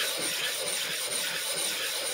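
A knife sharpening stone rubbed back and forth on a flattening stone, a steady gritty scraping with a quick, even rhythm, close and alone.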